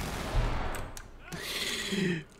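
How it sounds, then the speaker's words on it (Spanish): Gunfire in the tactical shooter Ready or Not: a few sharp close shots followed by a rattling burst of rapid fire, with a voice briefly exclaiming amid the shooting. "Siguen disparando, boludo."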